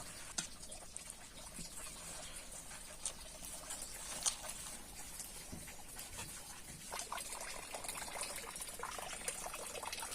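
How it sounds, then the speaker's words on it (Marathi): Water is poured in small amounts into a gram flour (besan) mixture for crispy fritters, giving a faint trickling and dribbling with soft stirring ticks, quiet and close with no talking. "थोडंच पाणी टाकायचं आहे खूप क्विचित कमी पाणी टाका"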